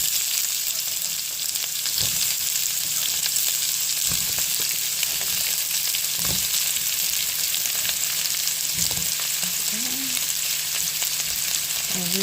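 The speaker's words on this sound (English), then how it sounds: "We're going to add our onions and our sweet potatoes right in this pan here." Onions and sweet potatoes sizzle steadily in a pan, a loud continuous hiss with occasional stirring knocks and scrapes spaced a couple of seconds apart.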